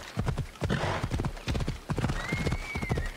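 Horse hooves clip-clop in a steady rhythmic gait in the video game Assassin's Creed Odyssey, close and continuous, with a brief whinny near the end.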